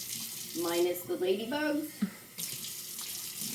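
Running tap water rinses garbanzo beans in a container, a steady hissing stream continuing through the clip while a person talks over it.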